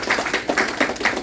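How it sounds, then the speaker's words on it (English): A youth audience at a public-speaking event applauds in a brief, moderate burst of scattered hand claps with no voices on top. "Give a round of applause."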